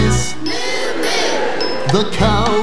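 Crowd of concert singers imitating a black-and-white cow's moo in a children's farm song, several drawn-out voiced moo calls rising and falling over loud band music, close and full.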